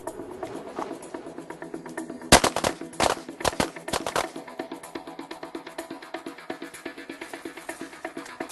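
Handgun shots crack out in a rapid cluster during a shooting drill, several loud reports bunched together near the middle, with a steady background clatter before and after.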